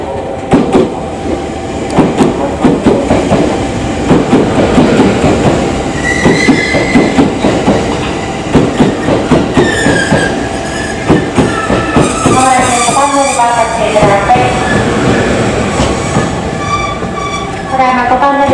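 JR Kyushu 787 series train, the 36+3 service, arriving at and pulling out of Tosu Station: a loud close rumble with rhythmic clickety-clack of wheels over rail joints and squealing, whining tones, while a platform announcement plays over the top.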